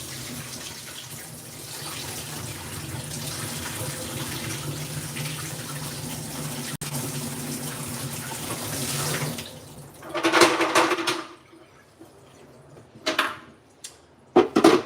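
Collected water from a dehumidifier running nonstop in humid Korea is poured out in a broad, rushing splash midway, followed by a few shorter sloshing pours near the end after a steady background hum.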